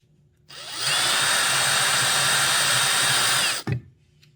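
A black-and-gold 7/32-inch HSS drill bit bores into hard hickory wood with a loud, steady whine lasting about three seconds, then stops abruptly, followed by a short clunk.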